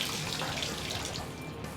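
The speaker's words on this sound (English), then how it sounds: "that's all the air that's coming out of the water heater as we did the flush" Air and water sputter out of a water heater's drain during a power flush, carrying old debris. A loud, continuous rushing gush runs close and unbroken, with no one talking.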